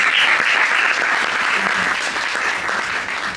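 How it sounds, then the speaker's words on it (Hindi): A theatre audience gives loud, sustained applause to welcome the performers of a stage play, a dense wash of many hands clapping at once that holds steady for the whole stretch. "जोरदार तालियों से कलाकारों का स्वागत करें।"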